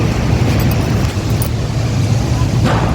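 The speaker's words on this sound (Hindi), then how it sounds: "इस तरीके से हवा चल रही है।" Strong storm wind roars steadily outdoors, a loud, continuous rushing with low rumbling buffets across the microphone, no talk.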